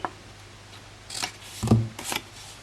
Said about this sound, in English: These two very small ones we're going to cut off completely